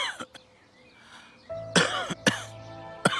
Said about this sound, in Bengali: হঠাৎ কাশি চলে এসেছে।